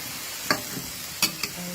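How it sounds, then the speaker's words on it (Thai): Lotus stems are stir-fried in a pan with no added water, a soft continuous sizzle broken by three sharp scraping stirs of the spatula, close and clear, with no talking. "ผัดไปผัดมาเดี๋ยวน้ำก็ออกมานะคะสายบัว"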